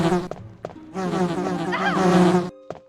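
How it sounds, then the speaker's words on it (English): Bees in a zombie video game produce a loud, close buzzing that swells and wavers for a couple of seconds between short sharp clicks. "let's not get stung by more bees"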